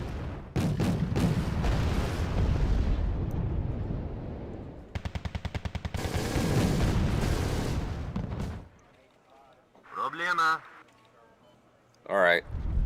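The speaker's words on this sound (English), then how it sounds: "we're going to launch our own rocket strike. I'm going to drop some artillery." Artillery and rocket strike in the video game Wargame Red Dragon, loud rolling booms and rapid crackling volleys of fire that go on for several seconds and then fade out, with someone talking over part of it.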